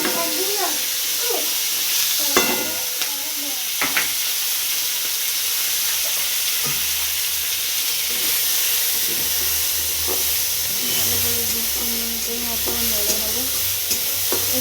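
Chopped garlic and green chilli sizzle and spit in hot oil for an egg curry, a steady close frying hiss with scattered utensil clinks and stirring scrapes throughout, no one talking.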